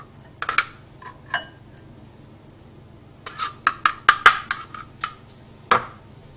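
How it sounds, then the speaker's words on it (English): Spoon scraping and clinking against a bowl while cream cheese and cream-of soup filling for ham, broccoli and cheese roll-ups is mixed, in a series of short, close, irregular taps and scrapes with brief pauses. "Mix that all together well."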